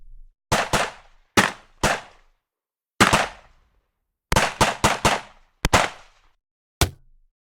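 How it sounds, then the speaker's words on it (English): Unprocessed weapon sound effects for a battle sequence: a run of about a dozen sharp gunshots, impacts and glass-breaking hits, each loud and close with a short decaying tail. They come singly and in quick bursts, separated by clean silence. "We've got some gunshots in there. We've got an impact, some glass breaking, a machine gun."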